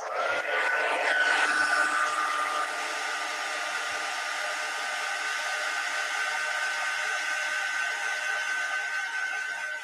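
A hair dryer blows steadily across a wet watercolor landscape painting, a loud, continuous whirring hiss that holds for the whole stretch with a brief louder burst near the start.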